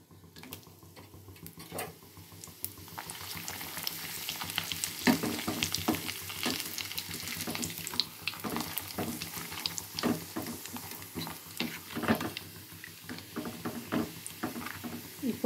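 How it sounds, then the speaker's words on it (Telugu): Papads frying in oil in a kadai, a continuous close sizzle and crackle with dense irregular pops and occasional clinks, building slightly in intensity and heard alone. "ఇప్పుడు అదే కళాయిలో నూనె పోసుకొని అప్పడాలు కూడా వేపేసుకుంటాను"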